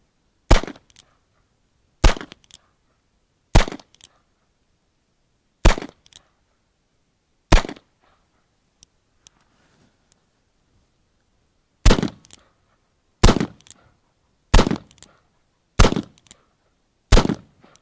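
Gunshots from a Cimarron Model P revolver in .45 Long Colt: ten sharp, loud single reports fired outdoors at irregular intervals of one to two seconds, with a pause in the middle and no talk.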